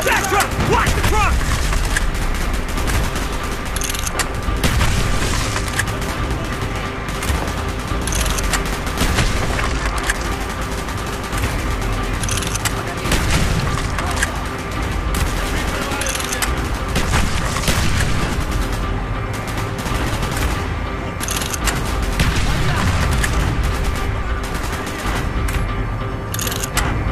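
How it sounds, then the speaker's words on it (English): Dense, continuous gunfire in the video game Call of Duty: Black Ops, with rapid bursts and heavy booms, loud and sustained throughout, with brief voices mixed into the battle noise. "Gunfire's drawing attention."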